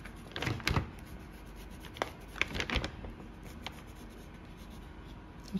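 A pencil marks out lines on dressmaking pattern paper, with several quick scratchy strokes in short bursts followed by quieter pauses, close up with no talking.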